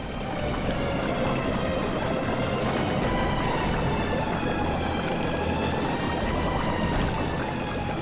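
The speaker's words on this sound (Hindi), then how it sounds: "सर पानी भर रहा है सर" Water pours and rushes steadily into a boat, a continuous, loud, noisy gush with splashing that holds throughout and no clear speech.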